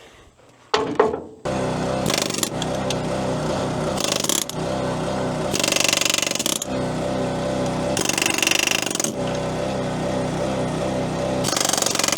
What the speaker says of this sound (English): Yep, it's time for the air hammer.